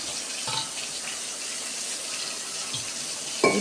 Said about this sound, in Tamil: ஸோ நல்லா க்ளீன் பண்ணிட்டு தண்ணியை விட்டு எடுத்துடுறோம்.